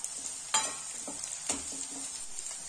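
Red chili goes into a pan of potatoes and fenugreek leaves, giving a soft steady sizzle with a couple of light clinks of a spoon against the pan, faint and close.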